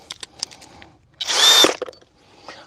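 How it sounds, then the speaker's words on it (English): A Parkside Performance cordless drill whirs in one short, loud burst lasting under a second, close by during split chestnut gate installation, with faint clicks and knocks before and after. "I like this drill, all right."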